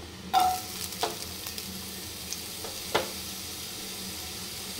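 Potatoes and chilli fry together in white oil with an even, moderate sizzle, marked by a few distinct spatula knocks and scrapes against the pan, with no voices.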